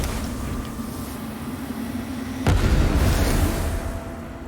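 A bomb detonates in the video game Lords of the Fallen: a sudden deep boom cuts through a rumbling background and leaves a sustained low roar afterward.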